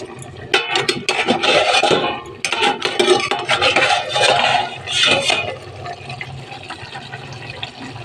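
Cabbage being stirred in a wok, loud clattering scrapes and knocks of a utensil against the pan in busy bursts, then easing off into quieter shuffling.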